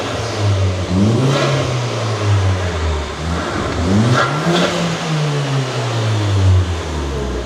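A Ford Escort swapped to a Volkswagen engine revs repeatedly on a dyno, the engine note climbing and falling in several loud, close sweeps over a steady mechanical rumble.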